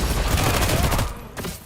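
Sustained rapid gunfire rattles in The Expanse: Osiris Reborn shooter game, a dense burst of overlapping shots and impacts that thins out briefly before resuming.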